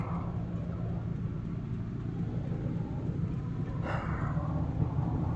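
Car engines idle and rumble in slow traffic on a rain-flooded street, a steady low drone with one brief swell partway through, close and continuous with no talk.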